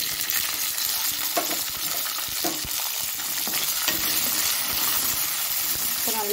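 Fried shallots being stirred into a yellow pumpkin masala in a pan, giving a steady frying sizzle with soft scraping strokes throughout and no voice.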